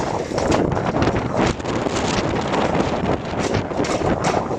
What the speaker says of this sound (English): It's a pretty windy day at Lake Ray Hubbard.